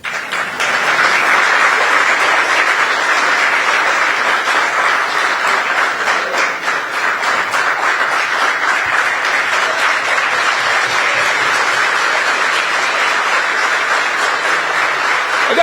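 Audience at a political rally applauding loudly and continuously, a dense wash of clapping held at steady volume for about fifteen seconds without a break.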